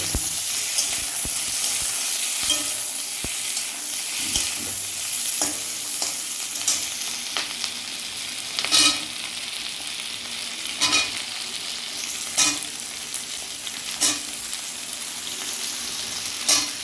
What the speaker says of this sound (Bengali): ক্যাপসিকাম করা দিয়ে দেওয়া হলো। হাই ফ্লেমে ভাজতে হবে।